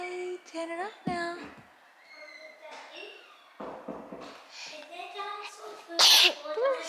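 A single sharp sneeze bursts out near the end, close and loud, after someone talking and other voices earlier.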